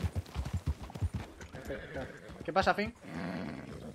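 A horse in Red Dead Redemption II goes wild, with rapid clip-clopping hooves followed by a loud whinny. A person speaks briefly over it.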